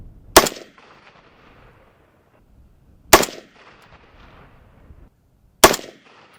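Three loud, sharp AK-47 rifle shots ring out, evenly spaced about two and a half seconds apart, each a single crack with a short trailing echo over a quiet outdoor background.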